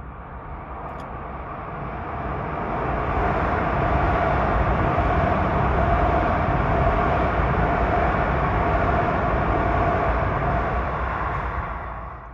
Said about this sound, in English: next up is 1559 from Huntington to Penn Station. Speeding down track number 3.